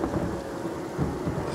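Rain in the video game Divinity: Original Sin pours as a steady, dense wash of noise, with low thundery rumbles swelling underneath and no voices.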